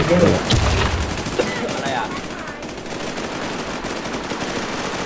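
Dense, continuous rapid gunfire from the WarZ video game keeps up for several seconds, loud and overlapping, like sustained automatic bursts with no clear pauses.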